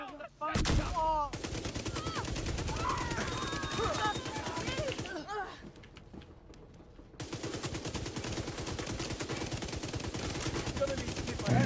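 Submachine gun fire in a PvE video game, rapid automatic bursts rattling loud and close, broken by a short pause before resuming in a dense sustained stream, with faint game effects underneath.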